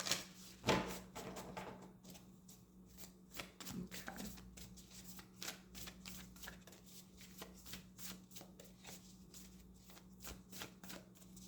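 Tarot cards being shuffled and drawn by hand, a rapid papery riffle near the start followed by a long run of soft, rhythmic card flicks and slides, close and fairly quiet, with a faint steady hum underneath.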